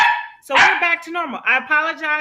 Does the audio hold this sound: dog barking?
yes